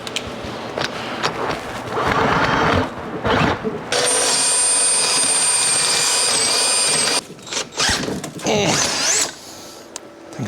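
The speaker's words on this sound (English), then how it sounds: "I'm gonna keep powering through this until my drill breaks" A power drill grinds and cuts through a steel seam on a mini bike chopper part during a disc brake conversion, loud and close, in uneven bursts with a sustained high whining stretch midway before stopping and restarting.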